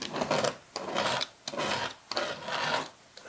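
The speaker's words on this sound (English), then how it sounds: "just gonna scrape a little bit" Rhythmic back-and-forth scraping along the edges of a painting, four long rasping strokes separated by brief pauses, close and steady with no voices.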